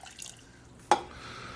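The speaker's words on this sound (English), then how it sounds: "A 1/4 cup of water." A quarter cup of water is poured into a measuring cup in a home kitchen, heard as a single quick splash and drip that rises briefly out of quiet room tone.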